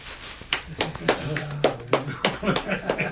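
Scattered hand claps from a small studio audience on a Turkish TV talk show, sparse and uneven bursts rather than full applause, with people talking over them.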